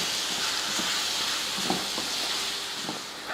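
Water sprinkled by hand over plantain cooking in a hot pan gives a steady, loud steam hiss that fills the whole stretch, with faint clinks and crackles underneath.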